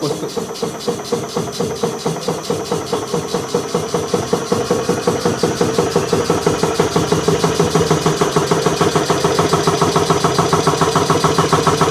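An ABAC B7000 air compressor under repair runs steadily after starting, a loud, dense mechanical drone with a fast regular pulsing beat and some rubbing noise, holding constant throughout.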